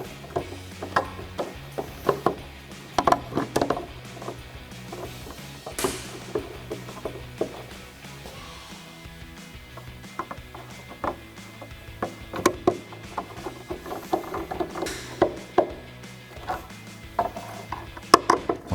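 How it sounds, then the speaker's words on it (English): A magnetic screwdriver drives screws into the rear spoiler mount of a 2024-2025 Mustang Dark Horse, with repeated ratcheting clicks and small metallic taps in uneven bursts, close and moderately loud throughout. "Magnetic screwdriver will help you out here. And get those threading in."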